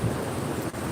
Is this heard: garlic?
no